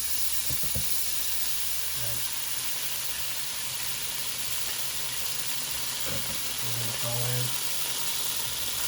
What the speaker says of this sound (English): I'm just gonna put some butter in and put it low